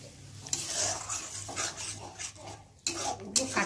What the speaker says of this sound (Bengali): এই যে সেদ্ধ করে রাখা লোটে মাছটা দিয়ে ভালো করে কষিয়ে নিই, দিয়ে একটু ভালো করে নেড়ে নেব